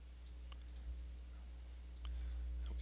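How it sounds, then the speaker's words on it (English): Mouse clicks sound at a computer while channels are set in lighting-sequencing software, several faint, sharp clicks spread irregularly over a low steady hum. "Click OK."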